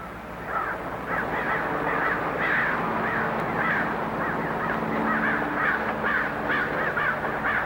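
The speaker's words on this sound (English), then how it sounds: "Crows. We have a lot of them out here." Many crows caw over and over in a steady, overlapping chorus, coarse and raspy, at a moderate distance with no voices.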